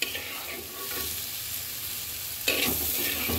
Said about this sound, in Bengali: সুন্দর করে কষাবো মানে ভাজা ভাজা করব।